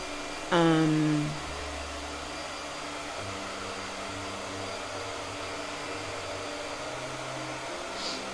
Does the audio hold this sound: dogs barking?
no